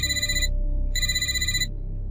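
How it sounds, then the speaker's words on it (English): A telephone rings loud and close in two long electronic bursts separated by a short gap, alone with no voices. "That's when my phone rang again."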